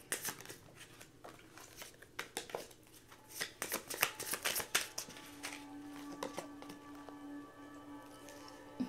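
A Moon Rabbit tarot deck is shuffled by hand in soft riffling bursts and card slaps, close and quiet, followed by a faint sustained hum in a calm room with no talk.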